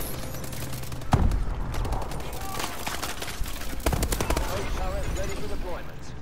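The Steel Bite fires in Call of Duty Advanced Warfare, with sustained bursts of loud, rapid gunfire running through the clip and a couple of heavier impacts standing out among in-game noise.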